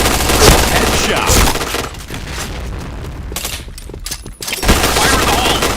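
Rapid bursts of automatic gunfire from Point Blank, an online first-person shooter, loud and dense across most of the span with a brief lull near the end, mixed with game voice callouts.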